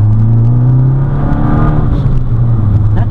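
A Fiat 500 Abarth engine pulling hard under acceleration on a test drive, a loud, steady droning rumble heard from inside the car that rises slightly in pitch.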